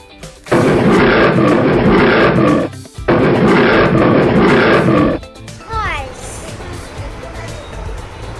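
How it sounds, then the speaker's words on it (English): Two long, loud lion roars follow one another, each lasting a couple of seconds, with fainter animal calls and background sounds after them. "The sound of lion is called roar."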